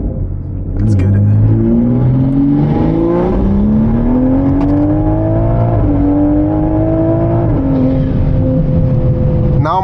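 A Toyota Supra fitted with a large Proram intake filter accelerates hard in third gear, engine note climbing steadily with a loud intake roar, briefly dipping at gear changes before rising again.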